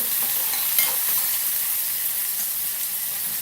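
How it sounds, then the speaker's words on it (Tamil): Tomatoes spluttering while frying in a pan for tomato rice, a loud steady sizzle and hiss with scattered crackling pops and faint stirring, no voices. "தக்காளி வச்சுக்கிறதால பயங்கரமாக தூ உடைக்குது"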